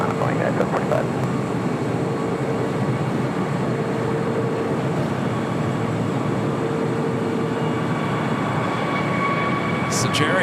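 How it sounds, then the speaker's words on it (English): An Alaska Airlines jet airliner rumbles at LAX airport, a continuous broadband roar that stays steady and fairly loud from start to finish, with faint radio-like tones near the end. "Flight was Alaska Airlines Flight 1332 heading to Liberia"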